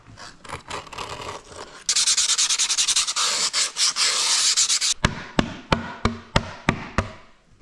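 Scraping along the inside edge of skateboard grip tape with pliers, a dense continuous rasp followed by a run of sharp, evenly spaced scratchy strokes, close and loud with no talking.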